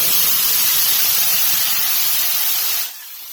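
Ground mustard spice paste hits hot oil in a wok with a loud, close, hissing sizzle that stays steady, then quickly dies down to a quieter fizz near the end.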